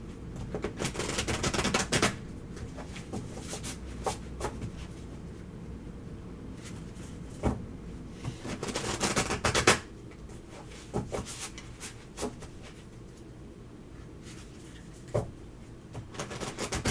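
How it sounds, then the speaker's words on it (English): A tarot card deck being shuffled by hand, with repeated riffling bursts and sharp clicks and taps scattered irregularly over a quiet background, no talk. "this deck shuffles so nicely"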